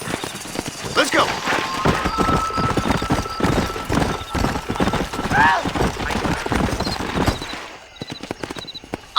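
Hooves clip-clop in a steady gallop from a horse in the western video game Red Dead Redemption, with a brief whinny partway through and voices talking over the ride.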